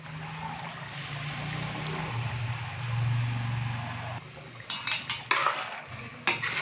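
A spoon stirs yogurt and green chutney into beef karahi in a metal pot, giving a steady scraping swirl that is followed by several sharp clinks of the utensil against the pan near the end.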